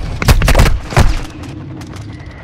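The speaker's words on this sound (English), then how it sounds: "Friendly mortar strike inbound." Mortar strike in Warzone 2: a loud cluster of heavy booming impacts, two or three close together and then one more, followed by a fading rumble and scattered distant cracks.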